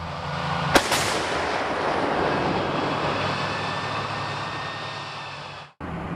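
A US Army M109 Paladin self-propelled howitzer fires a single sharp, loud round, its blast followed by a long rumbling roar that fades away over several seconds before cutting off.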